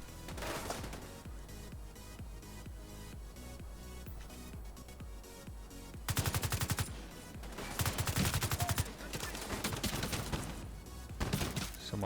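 Assault rifle gunfire in the shooter game The Division 2, rapid bursts of close, loud automatic shots with sharp repeated cracks, sustained volleys alternating with brief pauses, no talk.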